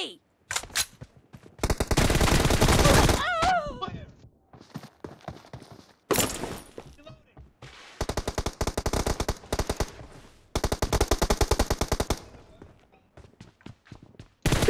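Rapid automatic gunfire in a multiplayer shooter video game, long loud sustained bursts separated by short pauses, with a few single shots and faint voices in the gaps.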